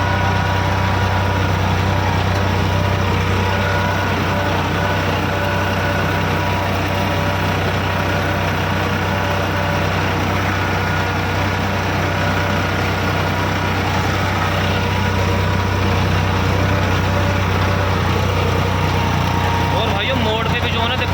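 A new Eicher 557 tractor pulls an 11-tyne cultivator at about 1500 rpm with both levers down, its diesel engine droning in a steady, loud, unbroken low rumble for the whole stretch.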